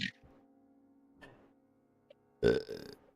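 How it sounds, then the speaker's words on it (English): A loud, deep burp rises out of near silence, trailing off in a rumbling second part, with a few faint clicks and sounds before it. "Punctuate that thought with a nice burp"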